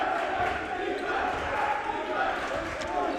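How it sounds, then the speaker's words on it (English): Spectators at a boys varsity high school basketball game, Pascack Hills vs. Mahwah, keep up a steady crowd roar and chant through overtime, with faint sneaker squeaks and ball bounces underneath. "Crowd chanting defense as they should."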